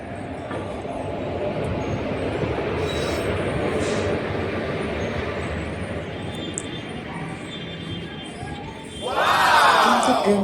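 A train passes by during a morning walk, a sustained rumbling roll of wheels on rails building in loudness, ending with a loud high horn-like squeal near the end, with people talking nearby.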